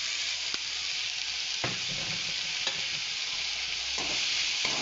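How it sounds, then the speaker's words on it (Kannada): Banana flower sizzles steadily in a hot pan, with a few soft stirring scrapes breaking through the continuous frying hiss. "ಇದು ಒಂಚೂರು ಫ್ರೈ ಮಾಡ್ಕೊತೀನಿ."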